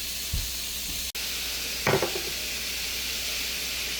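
Onions, green chillies and fennel sautéing in a pan for a vegetable curry, a steady close sizzle throughout, broken by a brief stirring scrape and a short clatter near the middle.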